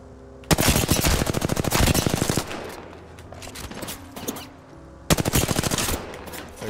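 Two long bursts of rapid automatic gunfire in Apex Legends, a weapon emptied of ammo with fast regular shots, loud and close, separated by a few seconds of quieter game sound.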